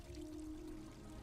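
Water pouring and sloshing in the side-scrolling video game Gris, a steady low wash with a faint sustained tone laid over it.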